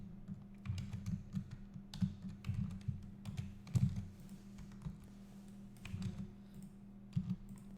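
Keyboard keys tapped out as software shortcuts during 3D modelling of a silver lock necklace, with scattered soft clicks in irregular bursts over a low steady hum, fairly quiet and close.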